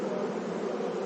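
A swarm of honey bees gathered around the queen makes a constant, diffuse buzzing drone, fairly soft and unchanging, heard alone without voices.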